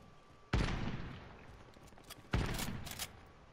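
Gunfire in the battle-royale game Warzone: two sharp, loud shot bursts about two seconds apart, each with a rattling tail, heard alone without talk.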